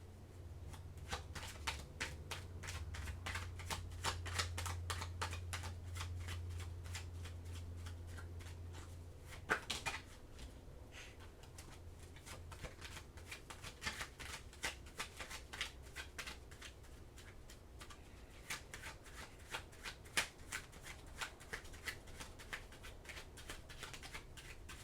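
Tarot cards shuffled by hand again and again, a long run of soft riffling and flicking bursts at close range, with a low hum beneath the first few seconds and no talking.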